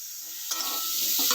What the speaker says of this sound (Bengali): এবার একটু আমার ছোটো মেয়ের জন্য আলু ভাজছি